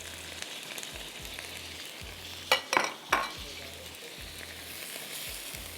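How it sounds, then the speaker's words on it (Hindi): Ground onions frying in oil for bhuna mutton, a soft steady sizzle with a low repeating hum and a few sharp spoon clatters near the middle. "आप इसमें प्याज डाल दीजिए, 2 पिसी हुई।"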